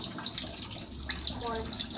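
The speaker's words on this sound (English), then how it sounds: "I'm helping my mom wash the dishes." Tap water runs steadily into a kitchen sink as dishes are washed, a soft continuous hiss with light splashes and clinks, close by, with someone talking over it.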